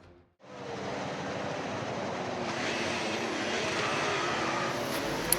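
Formula 1 cars setting off on the formation lap in a racing video game, a sustained engine roar that rises in after a brief gap and holds steady, with a sharp click near the end.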